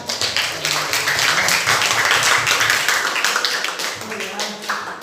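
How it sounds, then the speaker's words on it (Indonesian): Classroom students clapping for a group of presenters during a lesson, a steady dense patter of hands lasting several seconds with voices talking over it. "Ya, tepuk tangan"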